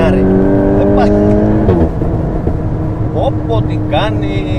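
A VW Golf 8 GTI Clubsport with 444 hp spins its wheels, the engine roaring loudly at high revs before the note drops, followed by short chirping tyre squeals.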